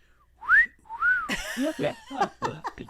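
A voice imitates a poorly made rape whistle with two rising-falling whistled squeals, then breaks into a sputtering run of chuckles and laughter.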